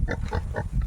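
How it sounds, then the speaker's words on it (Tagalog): A pig grunting and snorting close by in a rural pen, with several short rough grunts in quick succession and no talk over them. "Baboy lang nandito."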